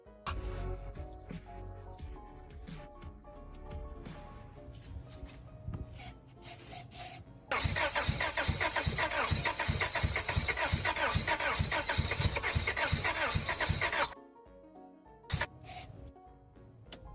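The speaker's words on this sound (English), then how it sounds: "Let's prep for a startup and see if we can get it fired up." A Nissan 240SX engine with new spark plugs cranks and catches, a close, loud, rough mechanical roar that runs for several seconds after a quieter lead-in of clicks and rubbing, then cuts off abruptly.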